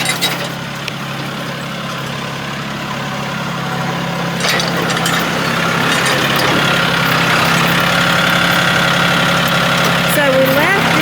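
Garden tractor engine idles with a low, steady rumble, then grows slightly louder as it drives in closer, a mid-pitched motor hum holding throughout.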